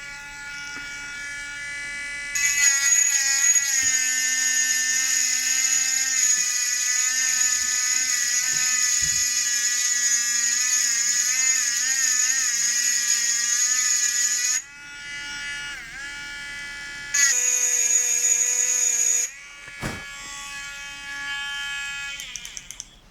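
A Temu engraving pen buzzes steadily against a Cadbury glass jar, a loud high-pitched whine that runs long, drops briefly, then resumes in short bursts as letters are scratched into the glass.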